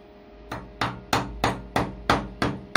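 Hammer tapping a Suzuki Bandit/GSXR motorcycle brake caliper with a snapped bleed nipple, seven sharp evenly spaced metallic knocks close up over a faint background hum.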